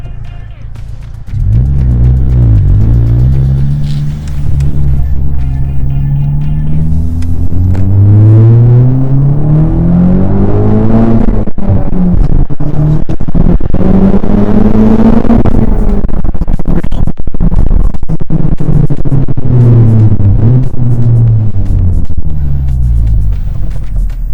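A 2019 Honda Civic Type R engine revs and pulls through the gears on the road, steady loud rumble with rising and falling pitch sweeps as it accelerates, continuous for the whole stretch.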